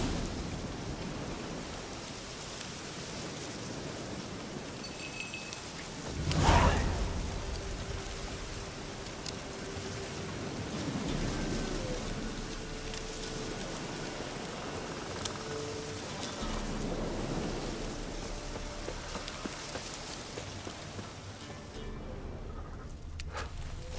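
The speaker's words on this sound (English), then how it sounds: "Looks like rain." Steady rainfall in an open-world fantasy game, The Witcher 3: Wild Hunt, a continuous hiss of rain with one sharp crack or thunder-like burst early on, then constant downpour until it cuts out at the end.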